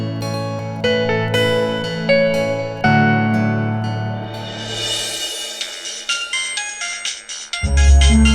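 Phone ringtone playing on and on without being answered, a loud melodic electronic ring tune that repeats for several seconds under soft music.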